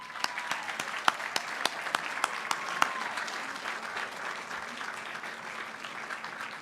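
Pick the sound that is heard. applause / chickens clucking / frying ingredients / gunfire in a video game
applause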